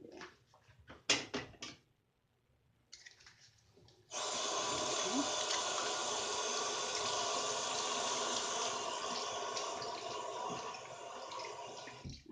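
A sea sponge tampon applicator is rinsed under running tap water: after a few brief knocks and handling noises, a steady close hiss of flowing water runs continuously for the remaining several seconds.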